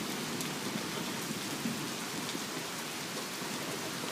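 Heavy rain pours steadily during an early-morning thunderstorm, a dense, continuous hiss of drops on surfaces with no pauses and no voices.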